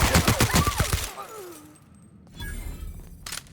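Rapid bursts of gunfire in the video game The Outer Worlds, loud and close, followed by a descending whine and quieter rumbling game sounds with a brief clatter near the end.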